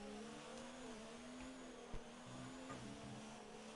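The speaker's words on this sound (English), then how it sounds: "as you hear his car hitting the bottom of that curb" Formula 1 car in a racing video game bumping over the bottom of a curb, a brief thud against the steady high engine whine of the car at speed, with no talking.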